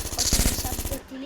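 Rapid automatic gunfire rattles in a video game, a fast run of close, sharp shots lasting about a second before stopping, with game sounds underneath.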